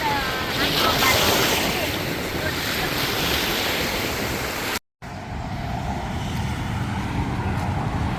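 Strong ocean waves crash and churn at Panama City, Florida, in a continuous roar with gusting wind across the microphone, broken by a brief cut partway through.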